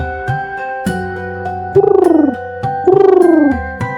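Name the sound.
spotted dove cooing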